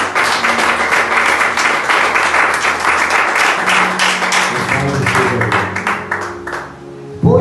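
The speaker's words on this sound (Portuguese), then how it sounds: "Bota uma salva de palmas para Jesus." A congregation in a church service claps loudly and continuously for several seconds, a thick crowd of hands that thins out near the end, while voices and a sustained tone rise underneath.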